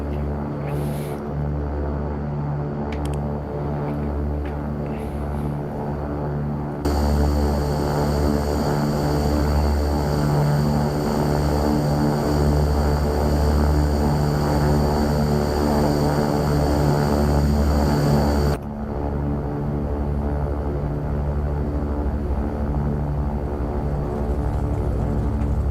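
Twin turboprop engines of a Beechcraft King Air 350 in the X-Plane 12 flight simulator, a steady loud propeller drone that swells louder for a stretch as the aircraft rolls, then settles back to a slightly lower hum.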